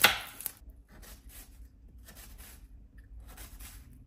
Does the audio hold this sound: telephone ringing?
no